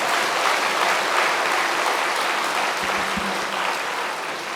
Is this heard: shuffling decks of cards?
no